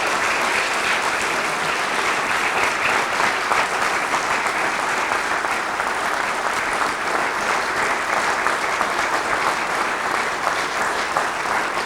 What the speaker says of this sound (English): You may cheer.